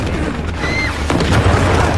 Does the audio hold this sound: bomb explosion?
yes